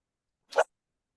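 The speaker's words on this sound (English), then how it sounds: "that's the dogs" A dog gives one short, faint bark in an otherwise quiet indoor room.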